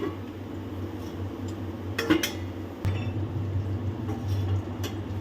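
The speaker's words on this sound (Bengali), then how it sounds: "আবার আমি ঢাকা দিয়ে দিচ্ছি।" A lid set onto a cooking pot while fish-head curry with taro stolons simmers, heard as a couple of faint metallic clinks over a low steady background hum.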